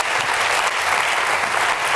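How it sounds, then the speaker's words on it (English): Broadcasting professionals at the Edinburgh TV Festival give Channel 5's Ben Frow a thick, unbroken burst of close applause from a large audience. "So a round of applause."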